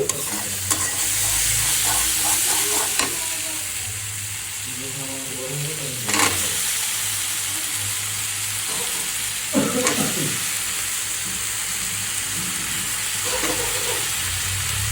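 Fish pieces fry in hot oil in a pan, a steady loud sizzle with scraping and stirring bursts from a utensil, no speech over it.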